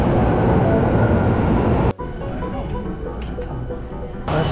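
Subway train ride in Japan: a steady, loud rumble of wheels and car noise with a brief drop around the two-second mark, then continued rolling rattle and a few squeaks before the roar swells again.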